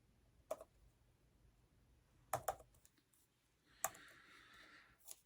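A computer keyboard clicked in short, sparse bursts of a few keystrokes each, close but very quiet against a low background, with no speech.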